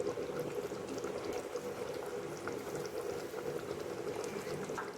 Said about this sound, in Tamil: பாருங்கள், இது நல்லா கொதிச்சு வந்துட்டுருக்கு.